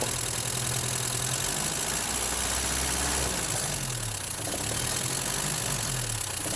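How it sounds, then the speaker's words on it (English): A car engine idles roughly with a steady low rumble and uneven pulsing, heard close up and continuously throughout, with no talking. "It's idling a little rough,"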